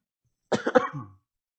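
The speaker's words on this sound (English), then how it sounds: "Do apologize about my cough." A single short, close cough, a quick rough burst lasting under a second, with silence before and after.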